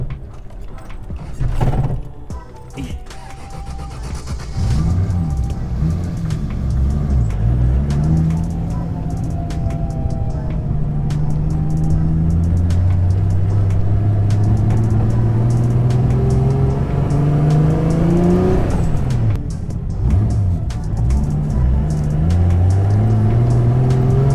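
A Nissan S14 with a swapped 1JZ turbo engine and CD009 gearbox accelerates hard, its loud, continuous engine note climbing steadily in pitch through the gears, with a brief dip and a fresh climb near the end.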